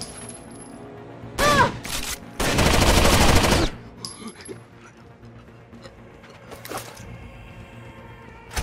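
Gunfire from the video game Rainbow Six Vegas 2: two loud, rapid automatic bursts close together, the second longer, then a quieter stretch with faint clicks and scattered shots.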